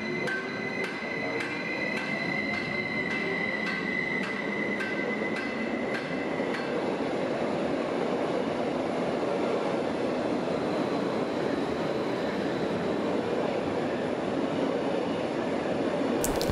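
A regional express passenger train on the RE2 service rumbles steadily through Frankfurt main station, loud and continuous, with high metallic wheel squeals early on that fade as the broad rolling noise carries on.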